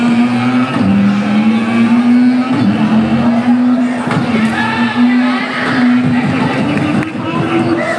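A motorcycle engine kickstarted and revving loudly at an outdoor moto show, with a steady droning note that rises and dips, under crowd noise and people talking throughout.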